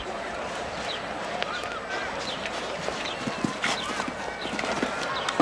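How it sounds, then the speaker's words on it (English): A show-jumping horse gallops around a cross-country-style course toward a bank and vertical drop, its hoofbeats a steady near clip-clop under a continuous crowd and commentary wash, with sharper thumps of landings scattered throughout. "this horse, Lincoln, is jumping superbly now as she approaches the bank"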